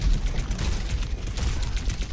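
Dense, continuous weapon fire from a hero shooter match in Overwatch 2 against an Orisa, a steady barrage of loud low-heavy shots and booms running through the whole moment without a break.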